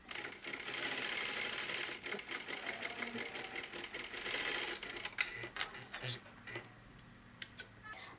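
A sewing machine stitching a dart on the front panel of a boat-neck princess-seam blouse runs in a quiet, steady rapid whir for about five seconds, then slows to scattered ticks and clicks.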